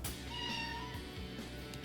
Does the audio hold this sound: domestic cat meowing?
yes